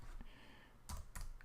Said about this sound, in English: start typing and enter until we find the person we want